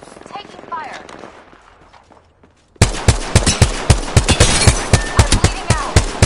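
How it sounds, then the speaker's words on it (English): Rapid automatic gunfire erupts after a brief quiet moment in a video game arena battle, a loud, steady stream of sharp bursts, with game voice callouts heard faintly before it. "Taking fire."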